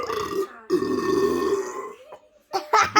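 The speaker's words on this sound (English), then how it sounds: "That was like a 10-second long burp." A long, loud, gurgling burp rolls out after a bottle of Sprite is finished, holding on for over a second before breaking off into a few short voiced bursts close to the listener.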